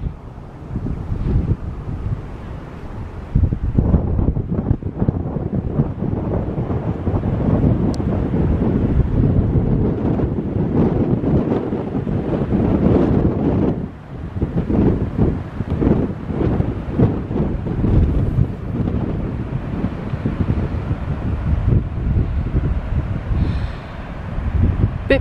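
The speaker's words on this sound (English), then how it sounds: "Bit breezy up here." Strong wind roars steadily across an exposed sand dune at Holywell Bay near Newquay, Cornwall, buffeting the microphone in loud, continuous gusts with a low rumbling texture throughout.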